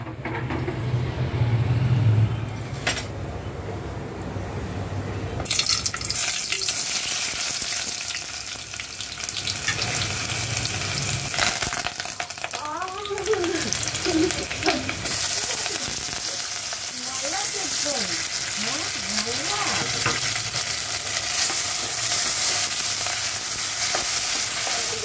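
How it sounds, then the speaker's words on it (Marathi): Oil sizzles steadily in a cooking pot with tomato, onion, coriander, kokum and curry leaves for a tempering. The frying hiss runs throughout, with clatter and stirring noises, bursts of louder crackle and some muffled background activity. "त्यामध्ये आता तेल ॲड केलं. ते फोडणीसाठी घेतलेलं आहे टोमॅटो, कोथिंबीर, कोकम, कढीपत्ता आणि कांदा."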